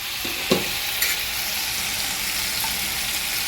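Tomatoes soften in a hot pan for Tamil-style tomato pickle, giving a steady broadband sizzle and bubbling, with a couple of brief stirring knocks near the start, close and even.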